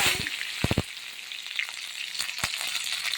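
Mustard seeds, cumin and curry leaves hitting smoking-hot oil for a chickpea usal, a crackling, spitting sizzle with a few sharp pops, close and fairly loud with no talk.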